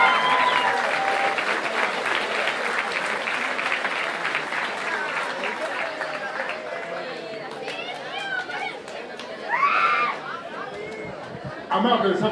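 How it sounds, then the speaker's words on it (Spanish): Baseball crowd at a Mexican Pacific League preseason game in Colima applauding the Charros de Jalisco team introduction, broad steady clapping and chatter that gradually fades, with voices cutting through over the PA near the end. "¡Fuerte el aplauso, por favor!"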